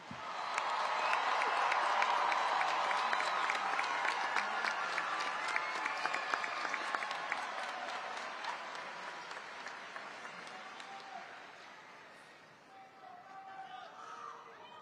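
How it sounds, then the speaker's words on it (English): Graduation ceremony audience at a high school applauding and cheering, a dense sustained roar of clapping with whoops that holds loud for about ten seconds, then gradually thins and fades toward the end. "Let's give them one more round of applause."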